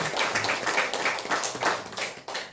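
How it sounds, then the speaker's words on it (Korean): A church congregation claps in welcome during a Sunday service, a dense run of hand claps filling the room, steady and fairly close, with no speech over it. "우리 최성근 성도님, 우리 누님 오셨는데 우리 환영의 박수 하겠습니다."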